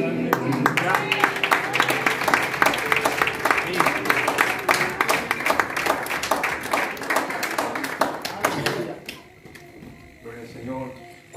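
A church congregation claps rapidly and steadily in sustained applause, loud and dense for several seconds, then fades into scattered claps under voices.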